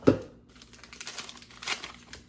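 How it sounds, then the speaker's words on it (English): A family-sized tea bag is handled and dropped into a jug holding a little water, giving a sharp crinkle at the start followed by soft, scattered rustling and a second crinkly burst, close and fairly quiet. "put in a family-sized tea bag"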